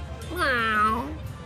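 A cat meows once in the video game Tales of Xillia 2, a clear, drawn-out, falling mew lasting about a second over a faint game background.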